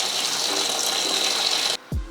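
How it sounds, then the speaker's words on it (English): Hot kettle water pours steadily into a bucket of 12mm boilies for carp bait prep, a close gushing stream that stops abruptly near the end, followed by a brief clunk. "filled up with kettle water."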